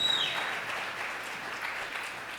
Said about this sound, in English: You can preemptively clap for her.